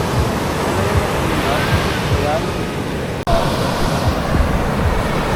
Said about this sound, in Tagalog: Oh, ang lakas ng alon.